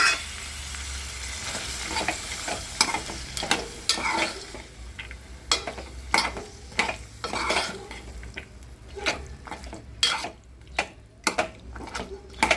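A spoon stirs chickpeas and potatoes through frying masala in a pot for aloo chana, giving repeated sharp metal scrapes and clinks over a steady background sizzle, with irregular pauses between strokes.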